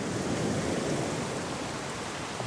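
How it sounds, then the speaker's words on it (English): Torrential tropical rain pouring down in a dense, unbroken roar, loud and close, with a steady hiss and low rumble and no speech. "Here in the tropics, when it rains... It's not just nice British drizzle. It's torrential."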